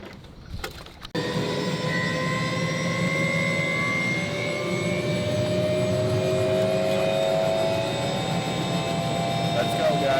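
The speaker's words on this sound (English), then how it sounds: "So this is the helicopter right here." A helicopter carrying passengers to a tourmaline mine in Brazil produces a loud, steady engine and rotor drone heard from inside the cabin. It starts after a brief knock and continues unbroken to the end.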